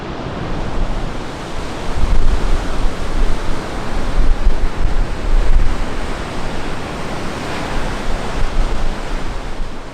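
Ocean waves and surf near Nazaré, Portugal, with its lighthouse and underwater canyon, make a loud, continuous wash of rushing water with slow swelling surges, and wind buffets throughout.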